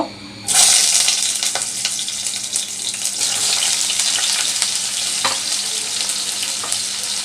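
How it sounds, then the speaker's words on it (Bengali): Bitter gourd hits hot mustard oil with a sudden loud sizzle that settles into a steady, close crackling fry, with no voices. "আগে তিত করাটা একটু বেজে নিব"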